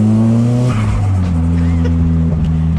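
A modified Nissan S15 Silvia engine revs loudly and steadily with a sharp shift in pitch as it changes gear, with a faint tire squeal beneath the drone.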